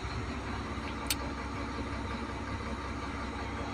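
An XCMG D10 dump truck engine runs at a steady idle close by, a continuous low rumbling drone with one brief sharp tick partway through and no voices.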